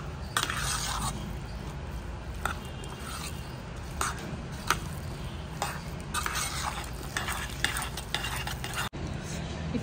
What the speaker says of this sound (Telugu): ఫ్లేమ్ వెలిగించేసి ఇది మనకి బాగా ఇందులో పిండిలో కలపాలి